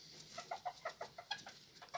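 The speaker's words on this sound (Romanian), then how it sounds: "Cea mai mică rasă de găini din lume" Serama chickens, the smallest chicken breed, clucking in a quick rhythmic series of short, close, bright calls over about two seconds, with no talking.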